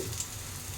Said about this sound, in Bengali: উচ্ছের বড়াটার এক পিঠ ভাজা হয়ে গেছে